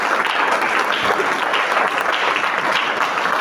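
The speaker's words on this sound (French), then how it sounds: "Acclame très fort." A church congregation applauds loudly in a dense, sustained burst of many hands clapping at once. The clapping is close and full and holds steady throughout.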